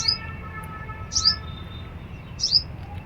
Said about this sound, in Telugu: ఇలా రకరకాల పిట్టలు వస్తుంటాయి